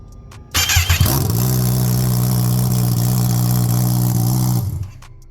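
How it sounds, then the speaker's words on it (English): A Kawasaki ZX10R motorcycle with headers only and no muffler cold-starts with a sharp burst, then holds a loud, raspy, steady idle for about four seconds before cutting off abruptly. "Sound test without a muffler, just headers on the ZX10R."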